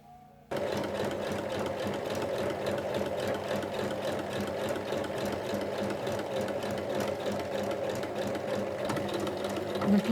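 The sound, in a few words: sewing machine stitching a zipper onto cushion cover fabric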